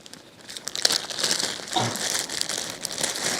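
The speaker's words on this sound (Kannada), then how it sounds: "ಈ ಥರ ಮೆಡಿಕಲ್ ಟೇಪ್ ಇರುತ್ತಲ್ವಾ" Medical tape being handled, a near crinkling and crackling of the roll and strip that runs steadily throughout with soft irregular peaks, no talk.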